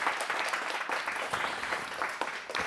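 An audience at a public meeting in Mulhouse breaks into brisk, dense applause, steady and fairly close, lasting a few seconds with no voices over it.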